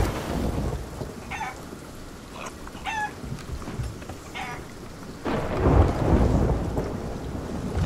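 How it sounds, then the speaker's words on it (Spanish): Thunderstorm in the pirate game Sea of Thieves: steady heavy rain hisses on surfaces while deep rolling thunder rumbles, swelling louder near the end, with no voices. "Ten cuidado con la lluvia"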